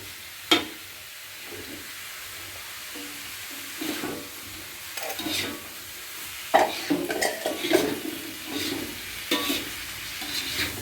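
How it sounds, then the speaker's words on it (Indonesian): Fried tofu tipped into a pan with bean sprouts and stirred, with a soft continuous sizzle, scraping spatula strokes and clinks of utensil on pan, some louder clattering midway, and no talk. "Setelah itu aku tuangin ini tahu yang tadi aku sisain."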